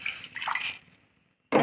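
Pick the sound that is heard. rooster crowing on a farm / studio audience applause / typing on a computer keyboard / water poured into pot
water poured into pot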